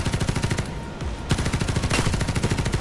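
Rapid gunfire in the video game Farlight 84, an SMG firing steady, fast automatic bursts that fill the whole stretch loudly and without pause.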